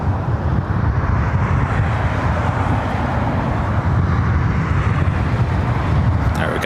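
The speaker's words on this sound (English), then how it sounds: "we got the next A380. This is the Lufthansa King coming in from Munich" A Lufthansa Airbus A380 arriving from Munich at LAX produces a heavy, continuous broadband jet roar, loud and steady throughout, with some wind buffeting on the microphone.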